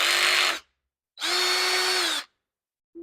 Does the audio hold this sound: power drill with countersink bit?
yes